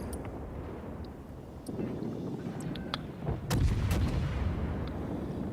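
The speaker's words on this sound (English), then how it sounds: "the yellow circles are my cannons, and they are kind of traversing, so they're ready to shoot" Warship cannons fire in the naval video game World of Warships, with a few sharp booms landing over a constant roar of wind and sea, the heaviest shot coming midway.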